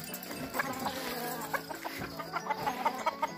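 Hens cluck in a battery-type breeding cage setup, a steady run of short clucks and squawks up close with other chickens close by.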